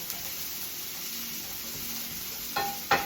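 Squash sizzling steadily in a frying pan while being stirred, a constant hiss with soft scraping and a couple of clinks of the utensil near the end, no talking.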